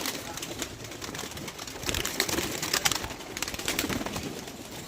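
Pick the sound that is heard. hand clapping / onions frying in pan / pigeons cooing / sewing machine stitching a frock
pigeons cooing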